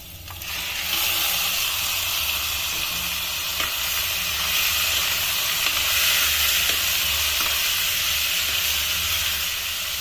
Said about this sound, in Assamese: তাৰপিছত ইয়াত মই চিকেনখিনি ঢালি দিম